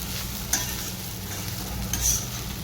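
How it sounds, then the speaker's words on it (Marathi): Sabudana khichdi with potato stirred in a pan over low gas, a soft steady sizzle under gentle scraping strokes, with brief louder scrapes at two moments. "आता गॅस कमी करून मंद याच्यावर हलवून घ्यायचा."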